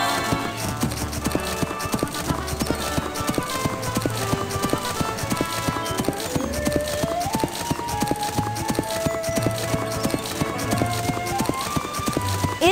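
Rhythmic hoofbeats clip-clop steadily as a horse is ridden through sand in the Barbie Riding Club video game, set under looping background music with occasional whinny-like tones.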